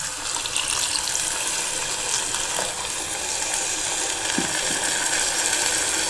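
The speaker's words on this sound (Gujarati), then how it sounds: "હવે આપણે તેમાં થોડુંક પાણી નાખી દઈશું।" Water being poured into a pan of cooking dhaba-style green cowpea (lili choli) curry, a steady, dense rushing pour lasting throughout, close and fairly loud with no talk.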